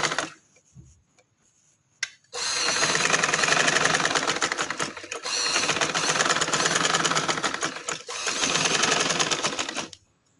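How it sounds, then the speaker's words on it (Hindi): A sewing machine runs close and loud in three long bursts of rapid, even stitching on a dress neckline, with brief pauses and a faint click between runs. "डबल सिलाई में लगा रही हूँ ताकि ये जो है गले पे ये मजबूत हो जाए"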